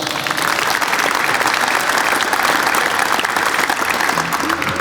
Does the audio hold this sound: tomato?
no